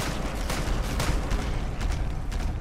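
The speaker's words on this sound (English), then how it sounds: "That is the sound of all his other adds dying." Enemies dying in Skyrim during a fight alongside a health-absorbing Black Blade sword, heard as a dense, loud wash of crashing, bursting game effects with several sharp hits and no break throughout.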